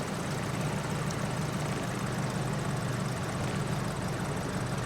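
A PA-38 Tomahawk engine idling at 800 RPM in the X-Plane 11 flight simulator, a constant broadband propeller drone with a low steady hum, unchanging throughout and heard alone.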